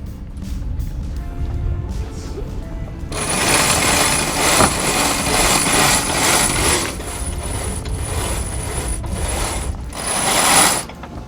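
A sail on a trimaran being hoisted, with lines running through blocks and a winch ratchet clicking, loud and continuous after a quieter opening.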